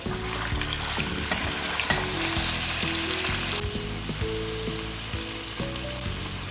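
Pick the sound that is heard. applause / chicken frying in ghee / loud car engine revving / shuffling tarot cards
chicken frying in ghee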